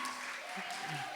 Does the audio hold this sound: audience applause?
yes